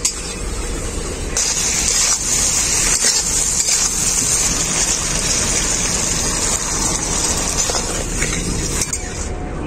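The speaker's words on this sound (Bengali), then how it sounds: "এখন আমি এর মধ্যে দিয়ে দেবো পরিমাণ মতো জল" Water poured into a pan of spiced prawns and potatoes sautéed until the oil separates, giving a steady, loud rushing gush that lasts throughout with no talking.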